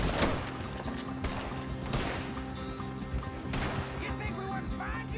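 Gunfight in Red Dead Redemption 2: a burst of sharp shots and cracks, then scattered single shots and crashes amid the game's action sounds.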